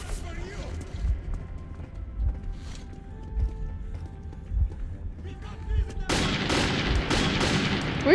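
Enemy gunfire in Metro 2033 cracks out in sporadic spaced shots, then erupts into a dense, loud burst of rapid fire near the end, with a player's voice talking throughout.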